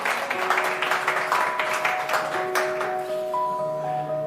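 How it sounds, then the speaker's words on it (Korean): Audience clapping welcomes presidential primary candidate Won Hee-ryong to the stage at a People Power Party vision presentation, a steady round of applause over sustained musical tones that thins toward the end. "후보들께서 저 단상에 올라오실 때 박수로 환영해 주시면 대단히 고맙겠습니다."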